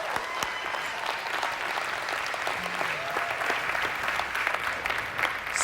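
Crowd applauding a bowling strike on the left lane during the PBA Chameleon Championship title match at South Point, Las Vegas, with steady, sustained clapping and cheering throughout, loud and close.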